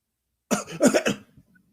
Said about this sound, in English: you coughed like 3 times now